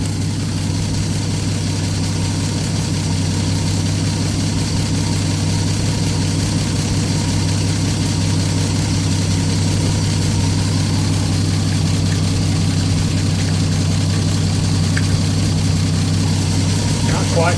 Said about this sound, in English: The little carburetor sounds really nice.